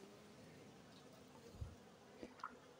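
Faint, steady buzzing of disturbed honey bees close by at an open hive, with a few soft knocks and rustles over the drone.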